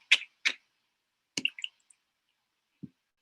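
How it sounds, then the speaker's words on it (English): Dripping water effect from a Jackbox party video game: a few sparse, separate drips and plops spaced irregularly, crisp and fairly close against silence. "you hopefully should be able to also hear the sound of dripping water with Jackbox games"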